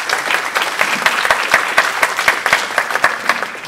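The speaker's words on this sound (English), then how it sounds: "Let's give a round of applause for Rob." A conference audience applauds a keynote speaker at a security event, dense close clapping sustained at a steady loud level with no speech.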